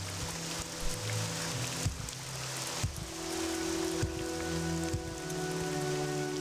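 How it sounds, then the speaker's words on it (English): Rain falls steadily in the video game Skyrim, a constant patter on surfaces with a low ambient hum beneath and a few soft thuds. "I do love the rain in this game, the thunderstorms and stuff."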